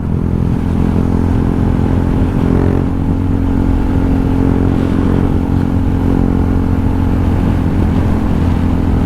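KTM 390 Duke motorcycle engine while riding, high gearing, drones in a steady, loud, close rumble with a slight swell around the third second, with no voices.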